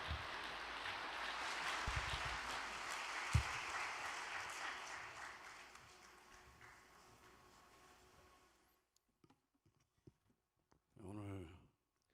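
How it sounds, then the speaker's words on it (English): A large indoor audience claps for a speaker arriving at the podium, a dense, loud wash of applause that fades out gradually over several seconds, followed by a brief spoken voice near the end. "Welcome President Lee-sung to the podium with a great round of applause."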